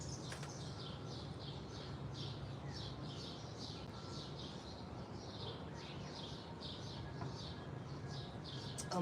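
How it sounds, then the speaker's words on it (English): Small birds chirp repeatedly in an outdoor city setting, their quick, bright calls coming in steady bursts over a constant low hum of urban background noise. "The birds are chatty."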